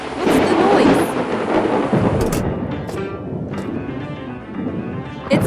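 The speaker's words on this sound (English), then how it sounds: "Thunder and lightning ahead!" Loud, continuous thunder rumbling with rain in a video game storm, a dense roar lasting throughout with a sharper crack near the end, no talking.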